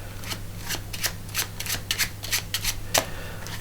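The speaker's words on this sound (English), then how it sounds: "he handed the cards to spectator number 2 and he gave them an overhand shuffle" A deck of playing cards gets an overhand shuffle: a quick series of close, crisp riffling bursts in uneven rhythm over a faint steady background hum.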